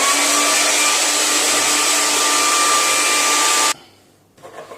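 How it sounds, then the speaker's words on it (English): A hair dryer blows steadily and loudly on a fresh acrylic painting of a moon with trees, a constant whooshing roar with a faint whine that cuts off abruptly near the end, leaving quiet handling noises. "Being acrylic, I can blow dry it for the next stage."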